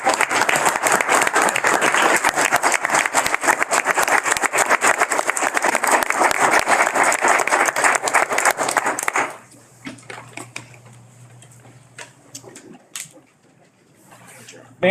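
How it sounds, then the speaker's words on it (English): Applause at a board meeting, a dense sustained clapping from the room for about nine seconds, then it stops abruptly, leaving quiet room noise with scattered small knocks. "could I make a motion for a round of applause for Dawn and Seth as well?"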